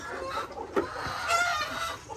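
Chickens cluck softly nearby, a few short clucks and calls over quiet background noise.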